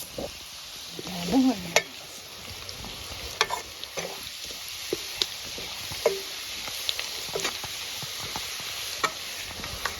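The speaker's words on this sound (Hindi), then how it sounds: "ये सारे खड़े मसाले हम इसमें ऐड कर लेंगे और इनको भी हम फ्राई कर लेंगे" Whole spices (black pepper, mace and bay leaves) frying in oil for an old-style Kashmiri fish dish give a low, steady sizzle, with a few light clinks and stirring scrapes scattered throughout.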